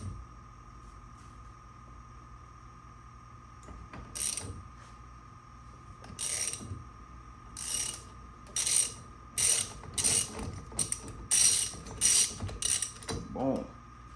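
A ratchet cranks a car steering wheel loose: bursts of rapid clicking pawl sounds, starting sparse and becoming frequent and rhythmic, over a steady electrical hum, close and fairly loud.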